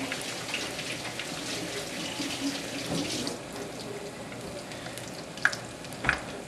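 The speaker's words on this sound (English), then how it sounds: "Let them fry for a couple minutes." Two batter-coated almond chicken pieces fry in hot oil at about 360 degrees in a home kitchen, giving a steady, even sizzle with no talk and a couple of sharper pops near the end.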